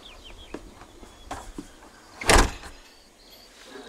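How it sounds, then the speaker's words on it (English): A door slams shut with one loud, sharp bang on a film set, preceded by faint scattered knocks and shuffling and followed by a quiet room tone. "slam the door in my face"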